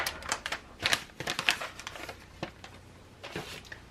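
A knife chopping Trader Joe's pepperoni on a cutting board: a run of quick, crisp taps at an uneven rhythm, close and fairly quiet, with no talking.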